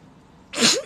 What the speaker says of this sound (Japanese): なんか、くしゃみ出たわ